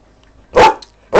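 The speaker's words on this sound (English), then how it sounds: "this dog that won't shut up" A dog barks loudly and close by in two sharp, separate barks during a gaming review recording.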